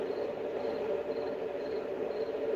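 Steady, soft electronic cricket chirping from a sound machine, a continuous high trill with faint pulses repeating about every half second, alone with no voices.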